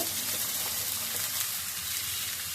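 Leafy greens hitting a pan of frying onions in a home kitchen, sizzling steadily and close up with a dense, even hiss throughout and no talk.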